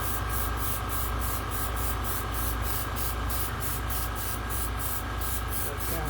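Steady hiss of spray paint being laid in strips onto a latex Jason Voorhees mask, a continuous close airy spray running without a break and with no talk.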